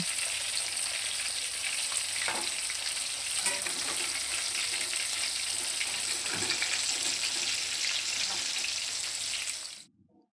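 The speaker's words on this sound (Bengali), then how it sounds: "চিলি চিকেনের পকোড়াগুলি ভাজা এক পিঠ হয়ে গেলে আমরা কিন্তু উল্টে দেব আর এক পিঠ ভাজার জন্য" Chilli chicken pakoras fry and sizzle in a pan of hot oil, a continuous close crackling hiss with a few faint clinks, cutting off abruptly at the end.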